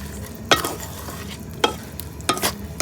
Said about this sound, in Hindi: तो अभी अच्छी तरह ना बूंदी को मिक्स कर लेते हैं शीरे में।